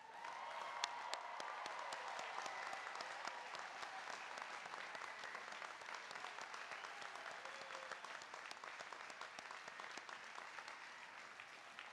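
A graduation ceremony audience applauds magna cum laude students at a university, sustained, fairly even clapping from a large crowd that heard from a distance, continuing steadily throughout.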